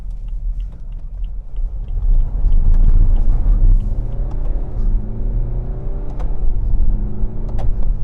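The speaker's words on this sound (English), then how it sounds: "Bit of wheel spin on the gravel there." A BMW 320d diesel of the F30/F31 3 Series spins its wheels on gravel, a loud close rumbling engine surge with crunching and whirring from the tyres, rising then settling.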